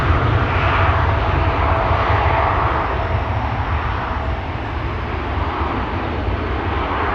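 A Boeing Dreamliner at Schiphol Airport, its engines producing a loud, continuous broadband roar that stays steady throughout, slightly easing toward the end, with no voices.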